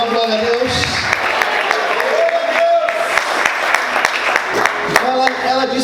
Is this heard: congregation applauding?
yes